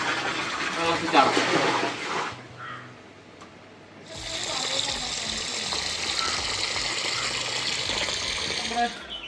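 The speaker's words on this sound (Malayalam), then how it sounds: "മുട്ട് വരെ വെള്ളം നിറക്കട്ടെ" Water gushes steadily into an inflatable pool, loud and continuous in the second half; earlier, voices talk over a softer flow before a brief lull.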